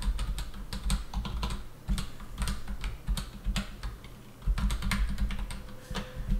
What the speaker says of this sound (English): Let me type into my Twitter box.